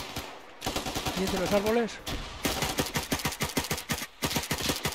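Rapid bursts of automatic gunfire in a war video game set in the Middle East, sharp repeated shots rattling close and loud, while someone talks over the firing.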